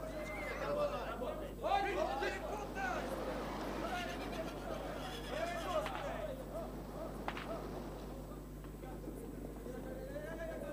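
Mares whinny and neigh at intervals across a noisy outdoor scene, with hoofbeats, a whip crack and the murmur of people talking over a steady low hum.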